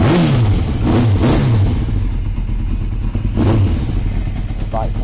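A motorcycle engine revs while warming up, loud and close, with several rising throttle blips over a steady idle and some mechanical clatter.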